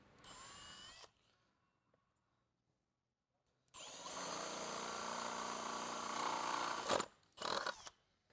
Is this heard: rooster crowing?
no